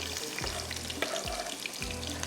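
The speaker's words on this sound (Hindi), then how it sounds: "गरम मसाले के साथ हम इसमें प्याज डालेंगे।" Onions crackle in hot oil with garam masala, a soft, even sizzle under a steady low hum, with occasional faint clicks and no speech.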